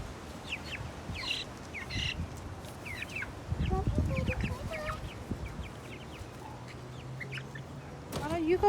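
Cornish Cross chickens cluck and squawk in short bursts near and far on a homestead, with rustling, handling noise and some voices in the background.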